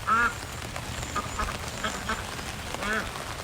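Pekin ducks quack a few times, a loud call at the start and more around the middle and end, over soft ambient background.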